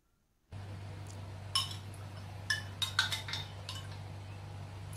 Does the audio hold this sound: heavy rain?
no